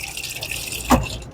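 Brisk iced tea pours from a Lancer dual-pour soda fountain dispenser, a short splashing gush of liquid rising briefly over a steady background hiss, close and moderately loud.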